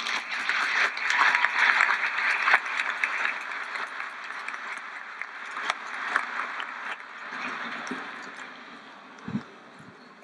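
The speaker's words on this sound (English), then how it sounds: "please let us all show our gratitude by giving them a round of applause" Audience applause at a graduation commencement ceremony in an arena, a broad wash of clapping from a large crowd that gradually thins and fades over about ten seconds.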